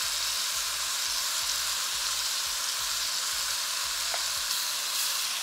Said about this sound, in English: I want to try and sear off the meat before we add any liquid.